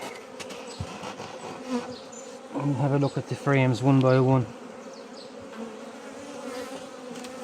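Busy honeybees buzz around the frames of a hive holding a swarm housed three days earlier, a steady insect hum throughout, with a person talking over part of it.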